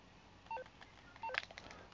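Phone keypad tones in Grand Theft Auto V, two short close beeps as buttons are pressed, followed by faint clicks.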